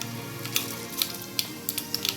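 Mustard seeds splutter in hot oil in a clay pot. Sharp scattered pops crackle over a soft steady sizzle, coming irregularly and close by, with no talking.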